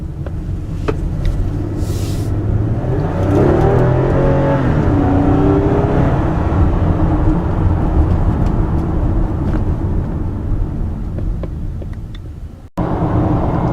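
A 2013 Toyota Camry cruising on an expressway, giving a steady, broadband road and engine hum with a brief engine swell near the start and a short dropout near the end, with no talking.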